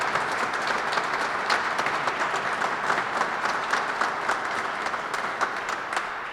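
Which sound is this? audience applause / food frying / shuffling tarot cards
audience applause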